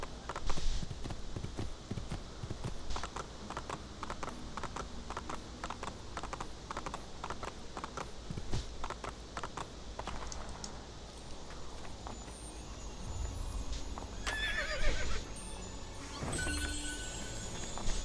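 Rhythmic clip-clop of horse hooves trotting steadily in an Assassin's Creed video game, with a game soundtrack and clicks layered underneath; no clear neigh stands out.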